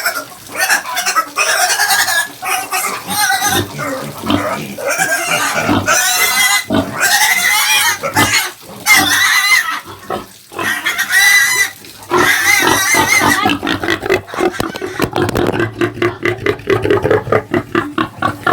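Pigs grunting loudly and chickens clucking on a Filipino farm, dense continuous calls close up with a person talking over them.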